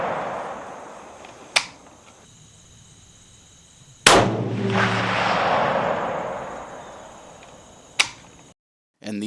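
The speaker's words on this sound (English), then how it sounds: "I went out to the range and I started shooting" Three sharp rifle shots from a 300 Win Mag firing 180-grain monolithic bullets ring out at an outdoor range, spaced a few seconds apart, with the middle report loudest and followed by a long rolling echo.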